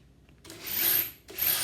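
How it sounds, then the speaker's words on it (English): While a cube chair is being assembled, a power drill drives into a screw hole in two whirring bursts, the first longer and rising, the second starting after a brief pause, close and fairly loud with no speech. "and you drill it in"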